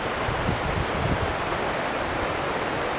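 A rushing mountain waterfall in Colorado roars as a steady, dense wash of white water, close and continuous with no pauses and no voices.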